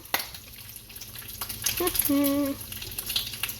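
Bacon frying in a pan crackles and sizzles steadily at close range, with brief tonal clatter and scraping sounds mixed in partway through.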